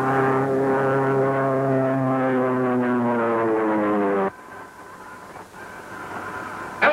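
A propeller airplane engine in a steep power dive, from a 1935 film, drones loud and steady with a rising whine for about four seconds, then cuts abruptly to a quieter, thinner engine hum.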